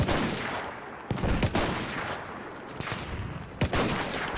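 Gunfire in the video game Battlefield 1, several sharp shots and short bursts cracking close and loud against a steady battle din, with no talk over it.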